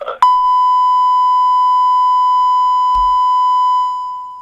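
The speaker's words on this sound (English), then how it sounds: "That's some beeping noise." One long, loud electronic beep holds a single steady pitch for about four seconds, starting abruptly after a brief noise and fading at the end.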